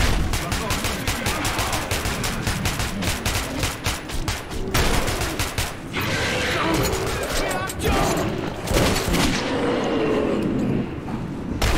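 Rapid automatic gunfire in the game Metro 2033, loud, dense bursts of machine-gun fire with mechanical clanks, while voices talk excitedly over the shooting.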